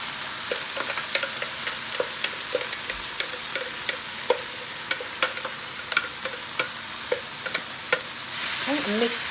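Chopped tomatoes and peppers fry on low heat in a pan, a steady hiss and sizzle broken by scattered clinks and scrapes of stirring, close and continuous, with no talking.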